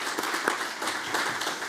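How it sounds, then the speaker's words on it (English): An audience claps together at a formal event, a short steady burst of dense applause with no speech over it. "join me in giving them a well-deserved applause"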